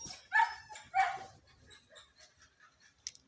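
A dog barks twice nearby, then gives a few softer yips and whimpers, heard alone near a Kubota B6000 tractor.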